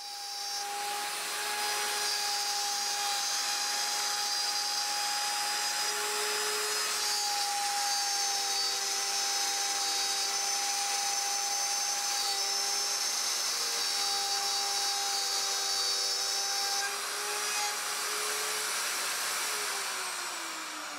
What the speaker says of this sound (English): 5/16-inch outside diameter guide bushing put in the router, and that will follow that cutout pattern that I made in the 1/4-inch plywood